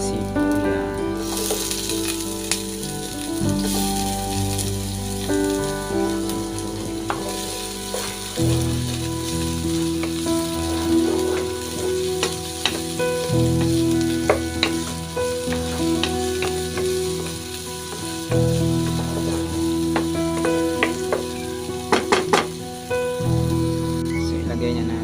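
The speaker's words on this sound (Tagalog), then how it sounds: "Isa tayo ng sibuyas." Onions sautéing in a frying pan for a Filipino bitter melon and egg dish, a steady close sizzle throughout with occasional stirring clinks and scrapes, with music playing underneath.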